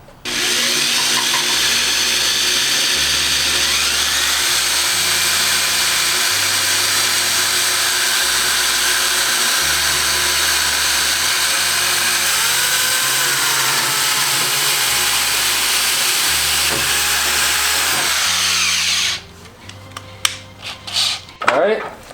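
Power tool driving bolts one at a time while fitting TJ-style fenders onto a Jeep CJ7, a loud continuous whine with repeated stepped pulses for about nineteen seconds before stopping, followed by a few short clanks.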